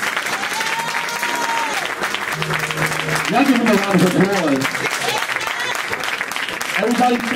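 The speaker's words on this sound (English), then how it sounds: "Y'all give him a round of applause." Audience at a memorial applauding steadily throughout, a continuous crowd roar of clapping with people shouting and talking over it.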